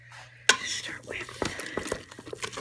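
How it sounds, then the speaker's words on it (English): Potatoes cooked in a pressure cooker are mashed with a big spoon, giving close, irregular clinks and soft scraping against the pot, with quiet voices murmuring underneath. "Mash them all around."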